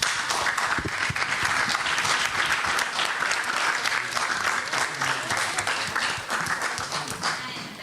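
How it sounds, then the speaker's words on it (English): Sustained audience applause at a conference panel on violence across borders, loud and steady from start to finish with dense clapping that eases slightly near the end, with a few faint voices mixed in. "So can we have a round of applause?"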